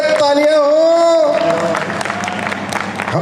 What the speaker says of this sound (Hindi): राजू मामा के लिए तालियां हो